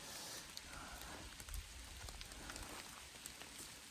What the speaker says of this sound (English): it's been raining the whole video